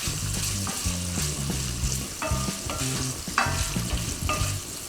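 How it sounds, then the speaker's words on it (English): Bacon browns in a pan for frijoles puercos, giving a steady, close crackling sizzle with utensil scrapes and clinks against the pan. "Okay, we're just going to brown these up a little bit more."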